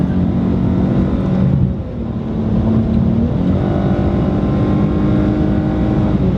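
A 2019 Dodge Challenger SXT with a V6 accelerates hard on an expressway, its engine a loud, steady drone under road and wind noise heard from inside the cabin, briefly dipping as it shifts before pulling on.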